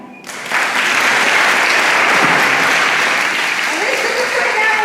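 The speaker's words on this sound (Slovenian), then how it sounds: "En aplavz za njega." An audience at a children's choir concert breaks into loud, sustained applause that rises quickly and holds steady, with voices faintly mixed in.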